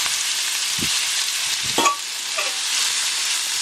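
Chicken frying in a pan for a Filipino onion chicken dish, giving a steady broadband sizzle throughout with a few brief stirring scrapes and clinks near the middle, no voices.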